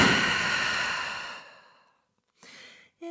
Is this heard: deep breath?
yes